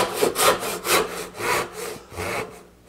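A hand saw cuts relief kerfs into a reclaimed wood stair tread while making a sawhorse, five or six rhythmic rasping strokes, close and loud, with no talking.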